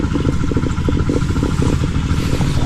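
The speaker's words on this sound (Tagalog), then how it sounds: "Possible yun ano, sumisip-sip ng tubig yung ilalim, kaya nagkakaroon ng tunog." Water gurgling and sucking through a crack in the ground beneath a calamansi orchard, a steady rapid bubbling churn like a two-stroke motorbike idling, continuous and fairly loud throughout.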